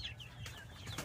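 Chickens clucking among a small backyard flock of hens and turkeys, faint and close-by in short soft calls against a low steady background hum.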